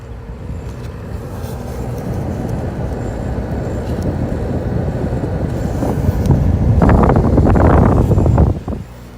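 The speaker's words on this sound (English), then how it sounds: "Okay, we got it running. Compressor's going." A grandmother's air conditioner with its compressor running gives a loud, steady, close whooshing roar that swells gradually and then drops off abruptly near the end.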